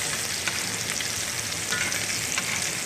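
Butter sizzling and spitting around a sous vide steak searing in a hot pan, a steady close hiss with faint crackles and no talking.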